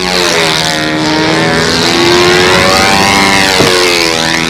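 A radio-controlled model P-51 Mustang flies past with a loud, smooth engine drone whose pitch rises and falls as it passes, heard alone without speech.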